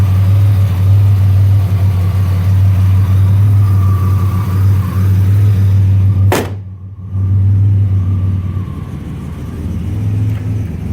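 A 1989 Turbo Trans Am idles close and loud with a steady deep rumble and slight lope, broken briefly by a short sharp whoosh midway before the idle resumes, with no talking.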